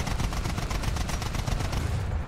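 A British self-propelled anti-aircraft gun in the War Thunder video game fires rapid, rhythmic bursts of cannon rounds, loud and continuous with no talk.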